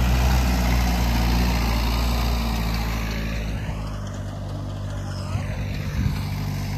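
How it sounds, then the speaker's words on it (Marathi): Small tractor engine running for crop spraying in a farm field, a steady loud low drone close by with a slight dip in level partway through. "इकडे ट्रॅक्टर चालू आहे, छोटा ट्रॅक्टर फवारणीसाठी"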